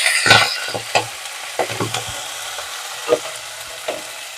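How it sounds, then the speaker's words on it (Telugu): Fenugreek leaves spluttering in hot tempering oil, giving a run of sharp crackling pops and bursts at uneven intervals over a quieter sizzle, close and fairly loud. "మెంతాకు ఇలా చిట్లుతుంది"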